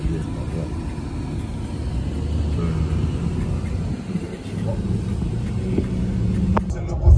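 Car driving slowly on the road back from Bordeaux, heard from inside as a steady, loud engine and road rumble that continues throughout.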